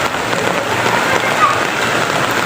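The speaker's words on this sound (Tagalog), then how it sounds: "Malungkot kasi umuulan." Steady rain pours at a riverside bathing spot, a loud, continuous dense hiss of drops hitting water and surfaces that fills the whole moment without letting up.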